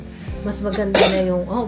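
A single sharp sneeze bursts out loud and close in the middle of casual conversation, with people talking both before and after it.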